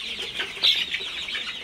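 Sonali chickens cluck on a poultry farm, a close flock of soft overlapping clucks and chirps running continuously, with one louder call rising briefly from the chorus.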